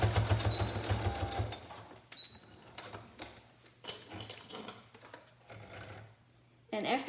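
A sewing machine runs in a steady, loud burst as it stitches a paper towel face mask near the ear, then quieter intermittent mechanical whirring and clicking follow with talk in between.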